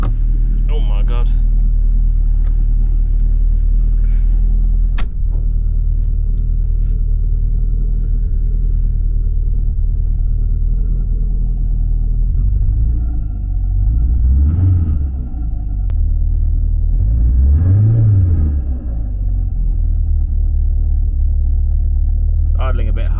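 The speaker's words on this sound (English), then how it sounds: "Idling a bit high." A Porsche 924 engine idles a bit high with a steady low rumble throughout, close and loud, rising briefly twice near the end as it is revved, with some talk over it.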